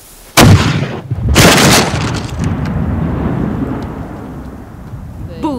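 A Trafalgar-era naval cannon fires with a sudden, very loud blast, then a second heavy boom follows about a second later, and both trail into a long rumbling decay, like distant thunder.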